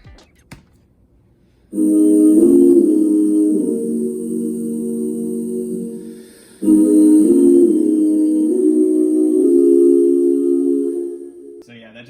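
Sustained layered voices singing a held chord in close harmony, two long swelling phrases with a short gap between, no speech.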